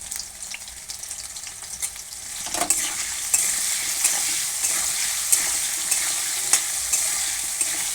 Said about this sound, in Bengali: এভাবে আমি ভেজে নেব আলুগুলো